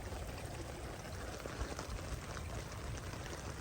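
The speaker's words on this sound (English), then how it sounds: "Got some little rapids going on there." Floodwater from Hurricane Hilary in the southwestern Arizona desert rushes through small rapids under a bridge during a storm, making a steady, moderately loud wash of flowing, churning water with no talk.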